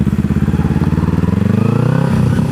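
Kawasaki Ninja motorcycle engine running steadily with a throbbing, pulsing drone throughout, pitch rising slightly as it accelerates near the end.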